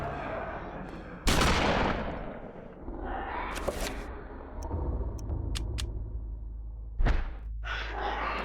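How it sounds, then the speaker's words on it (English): A shotgun fires in the horror video game Eternal Darkness: two sharp, loud blasts several seconds apart, each trailing off into a rumbling tail over a low background drone. "Maybe the shotgun."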